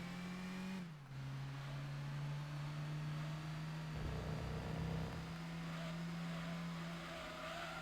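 A Mazda Demio's engine drones steadily in Gran Turismo 2, holding a constant whine that dips briefly near the start, with a rougher rasp of tire noise partway through and no talking.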